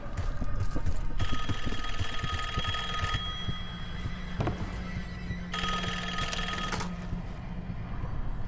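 A telephone rings in Call of Duty Black Ops 6, a bright electronic trill repeating in long bursts over a busy, clattering in-game background.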